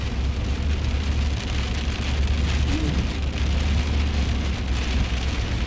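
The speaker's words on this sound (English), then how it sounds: "Got heavier precipitation, but it's falling as sleet." Sleet pouring down steadily during a lake effect storm, a dense, constant hiss and patter on surfaces with a low rumble beneath, no voices.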